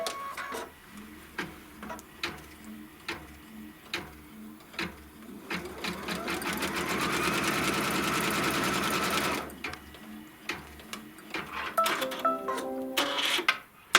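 Embroidery machine stitching a trim line and tack-down on white fabric, a steady mechanical whirring run building to a loud sustained stretch, with separate ticking clicks before and after.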